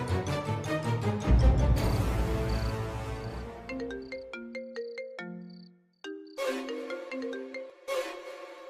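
A phone ringtone plays a bright, looping electronic melody of chiming notes. It cuts out briefly partway through, then starts again, loud and close.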